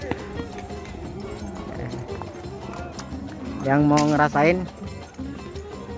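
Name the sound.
horse hooves clip-clopping at the Giza pyramids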